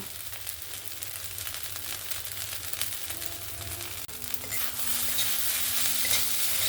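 Poha in a pan fries with a soft steady sizzle as it is stirred with lemon juice, with scraping strokes nearby and the frying growing brighter toward the end.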